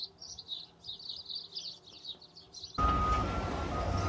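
Small birds chirp and tweet in a quick, busy chorus during mating season, moderately close. Partway through, a loud, steady broadband rush abruptly takes over.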